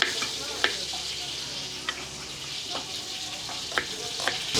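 Garlic and onion sizzle steadily in a pan, a continuous hiss with occasional sharp clinks of a utensil against the pan, close by and without talk.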